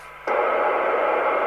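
A Fidelity CB2000FM UK CB27/81 mobile CB radio hisses with steady loud receiver static once the signal generator is switched off, the noise cutting in abruptly and holding constant.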